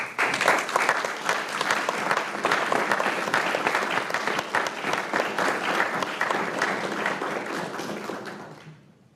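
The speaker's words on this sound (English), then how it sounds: "I'd like to give them a round of applause" Sustained applause from a seated audience at an Army change of command ceremony, honoring officers' families, dense clapping for about eight seconds before fading out.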